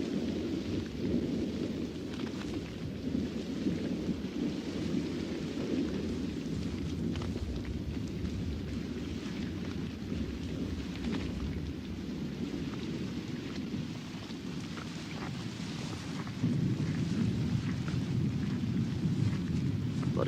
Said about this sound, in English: But even the lions are unnerved by the fierceness of this storm.